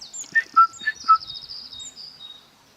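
Small birds chirp close by with a few clear, bright tweets followed by a faster twittering trill, fairly loud against an otherwise quiet background with no talking.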